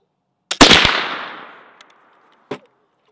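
A .32 caliber flintlock rifle fires one sharp, loud shot with a quick double crack of pan flash and main charge, a decaying echo tail, then a faint click and a short clack afterward.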